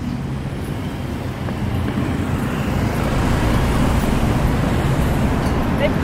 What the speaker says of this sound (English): The car's coming.